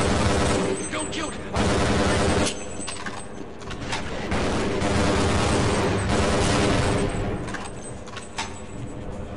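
Gunfire in Half-Life crackles in dense, rapid volleys of loud close shots through most of the stretch, with brief lulls and a fading tail.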